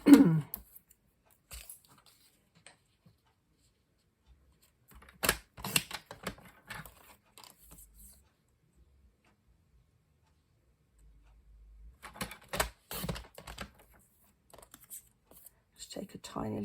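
Paper for a handmade card is trimmed on a cutter, heard as short clusters of close clicking and ticking strokes separated by long silent gaps.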